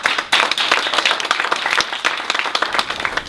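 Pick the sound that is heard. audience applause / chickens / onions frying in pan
audience applause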